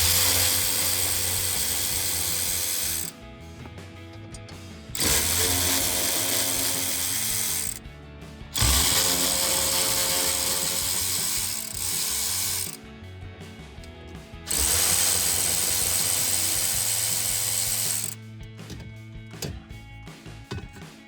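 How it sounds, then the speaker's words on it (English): Ratchet wrench loosening the four 8mm bolts on a metal plate behind the dash panel of a 2011-2014 Ford F-150, rapid clicking in several bursts separated by short pauses, close and fairly loud. "we're going to remove the 4 8mm bolts that hold this metal plate on"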